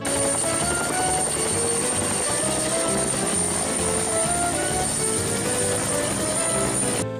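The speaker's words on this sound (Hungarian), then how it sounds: "Ada helikopter." Toy helicopter with a steady, loud whirring rotor drone that runs continuously at close range, with a high electronic whine on top and no talk over it.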